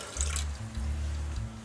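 Lemon juice pours into a pot holding water and sugar for baklava syrup, a short close splashing trickle with faint gurgles, lasting under two seconds.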